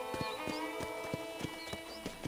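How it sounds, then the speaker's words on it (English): Horse hooves clip-clop at a steady walking-to-trotting rhythm on a ranch in Red Dead Redemption, with bird chirps and ambient game music behind; each hoofbeat is distinct and close. "let's see if you can still ride a horse"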